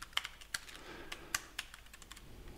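Someone types on a computer keyboard with a few close, crisp key clicks spaced irregularly. A couple of the strikes are sharper than the rest, and the background is quiet.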